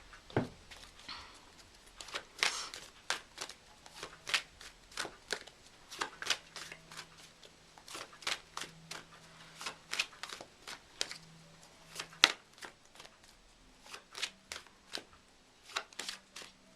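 Oracle card decks being shuffled: many quick, crisp riffles and slaps of cards, close and fairly quiet, in an irregular, continuous rhythm.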